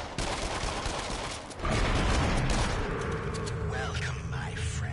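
Gunfire crackles through a PlayStation VR shooting game as the player fires at gnomes for points: dense bursts of shots and booms, loud and continuous, swelling heavier after a brief dip midway, with game effects layered on top.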